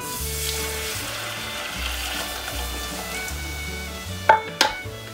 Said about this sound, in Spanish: Añadimos la leche de golpe y no paramos de remover